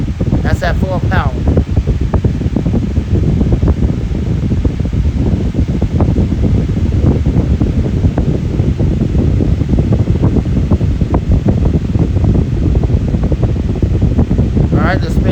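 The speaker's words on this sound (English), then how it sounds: "Very powerful fan. That's at full power." A powerful five-blade fan with a dual ball bearing motor runs at full power, giving a loud, steady, close rushing roar that holds without pause throughout.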